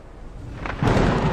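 Thunder with rain in an animated short film: a low rumble builds and then breaks into a louder crash of thunder over a wash of rain.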